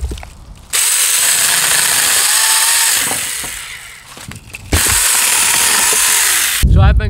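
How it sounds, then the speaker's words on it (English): A small Saker battery mini chainsaw buzzes loudly as it bites into branches, pausing briefly between cuts before revving again. "So I've been cutting now for a little over 10 minutes, or about 10 minutes with this chainsaw"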